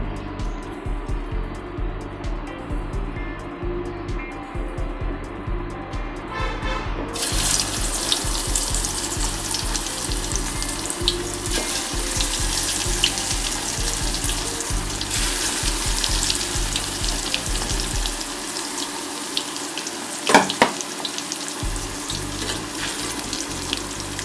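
Marinated chicken pieces frying in hot oil give a long, even sizzle that swells to a louder, brighter hiss after several seconds and stays close and steady, with no talking.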